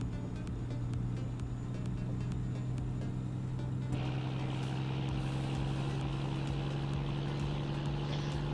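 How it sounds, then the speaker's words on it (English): Truck engine in American Truck Simulator, an under-500-horsepower workhorse driving in a convoy, giving a steady low droning hum that holds throughout with a brighter hiss joining partway, alone without talk. "But the engine it's got sounds good."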